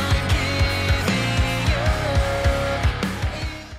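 Unmastered older mix of a pop punk song with steady punchy drums, bright distorted guitars and a sustained melodic line, dense and full throughout with no talking.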